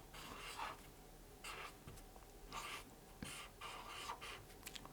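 Pen or pencil writing on paper, soft scratchy strokes in short irregular bursts, very faint and close, with no voices.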